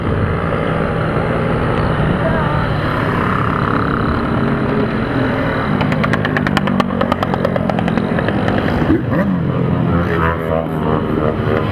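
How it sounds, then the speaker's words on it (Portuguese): A stream of motorcycles rides past on the mountain road of Serra Dona Francisca during a group ride, their engines roaring loud and close in a dense, continuous drone, with faint talk mixed underneath. "onde você olha tem moto"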